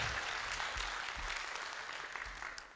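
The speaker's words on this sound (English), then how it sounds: "Another big round of applause, please, for the Operosa team for this beautiful opera and their game" Applause at a live game awards event, honouring a team's opera game, sounds as a steady wash of clapping from a crowd, fairly distant and soft, continuous throughout with no voices over it.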